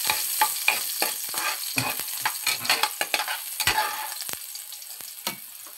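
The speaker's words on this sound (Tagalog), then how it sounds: "Lagay na tayo ng bawang sa ating kawali." Garlic fries in a pan as a base for pork spare rib sinigang, with a close, lively sizzle and repeated scraping taps as it is stirred.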